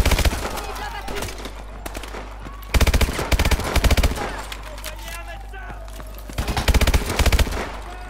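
Gunfire in the video game Call of Duty Advanced Warfare, loud close bursts of rapid automatic fire in several volleys with brief lulls, under game chatter and commentary.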